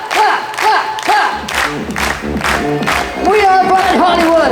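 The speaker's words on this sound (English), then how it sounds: "Now everybody clapping." A resort show crowd at Planet Hollywood Cancun claps along in rhythm, steady beats under loud amplified singing and shouting over music.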